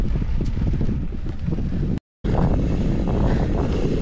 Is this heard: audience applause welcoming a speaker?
no